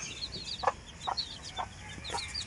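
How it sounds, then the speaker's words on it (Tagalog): Young RDA bloodline gamefowl chicks, a brood of 18, give soft clucks and repeated high peeps at close range over quiet farmyard background noise. "Daming sisiw niyan."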